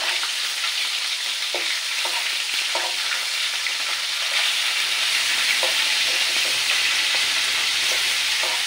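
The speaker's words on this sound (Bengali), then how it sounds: "এখন তাই রান্না চলছে" Eggplant curry with puti and hilsa fish cooking in a pan, giving a steady close sizzle and frying hiss with occasional soft stirring clicks throughout, no talking.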